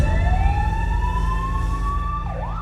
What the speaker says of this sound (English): That ambulance you can hear is our intensive care paramedic